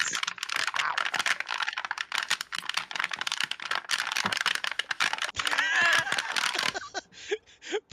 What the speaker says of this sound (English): all I could hear what sounded like a mechanical keyboard just furiously typing out an absolute, like furiously typing a memoir